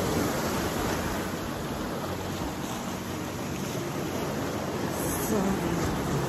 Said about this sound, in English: biggest waves out there